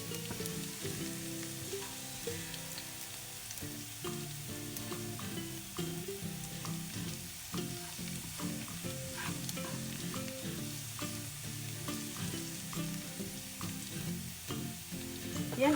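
Steady crackling sizzle of thinly sliced garlic browning in oil in a frying pan, dense and continuous throughout with occasional stirring clatter.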